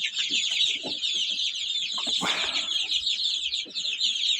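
Domestic hens and Kuchinsky breed chickens cluck in a farmyard coop, a busy overlapping chorus of short clucks with occasional louder calls, fairly close and without speech.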